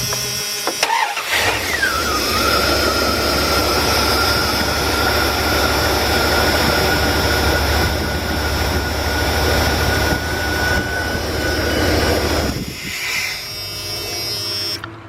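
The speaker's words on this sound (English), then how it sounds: "let's start the vehicle up" A 2000 Dodge Ram Van B1500 with an idle control system fault cranks and starts, then idles loudly and steadily for about ten seconds with a whining tone before the engine shuts off.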